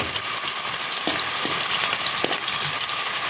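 Potatoes frying in hot oil as they are stirred, a dense continuous sizzle with a few soft scraping knocks from the utensil.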